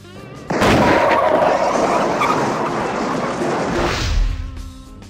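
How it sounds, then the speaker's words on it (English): Sustained barrage of gunfire and artillery-like blasts in a film trailer, loud and dense for several seconds, fading near the end. "Commence firing."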